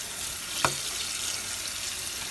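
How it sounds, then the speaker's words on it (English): Tap water runs steadily into a kitchen sink as potatoes are rinsed of dirt before soaking for air-fryer fries, a continuous even wash with one brief clunk partway through. "We're going to give them a rinse."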